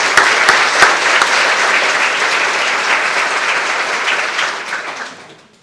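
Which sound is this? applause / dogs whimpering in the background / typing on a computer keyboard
applause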